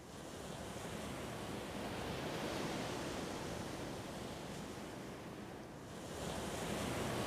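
Ocean surf rolls in a steady, full wash of broadband noise that swells and eases slightly, with no voices over it.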